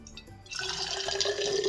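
Drinking water from a kitchen RO purifier dispenser starts after a brief quiet moment and then pours steadily into a container with a close, bright splashing stream.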